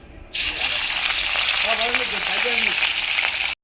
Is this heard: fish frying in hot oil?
yes